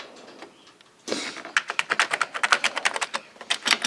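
Keys are pressed on an Amiga 500 keyboard: after a quiet start and a sudden clatter, a rapid series of sharp plastic clicks follows in an uneven typing rhythm, close and distinct.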